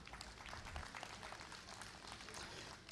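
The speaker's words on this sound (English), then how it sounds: "Let's give them a round of applause." At a dairy goat show, onlookers applaud the junior doe lineup, a faint, distant wash of many hands clapping that holds steady in a reverberant hall with some low rumble beneath.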